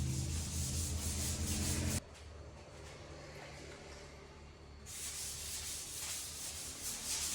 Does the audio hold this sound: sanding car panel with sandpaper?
yes